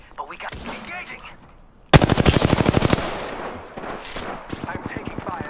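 Apex Legends gunfire with Hammerpoint rounds erupts in a loud, rapid burst of automatic shots, then lighter scattered shots follow, with game voice chatter faintly around it.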